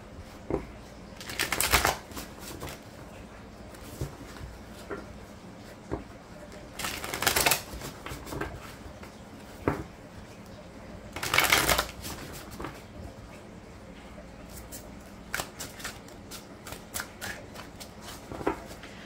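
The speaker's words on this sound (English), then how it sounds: "We'll get a few shuffles here" Tarot cards riffled and shuffled in three distinct bursts, separated by quieter stretches of soft handling and occasional taps, close to the microphone.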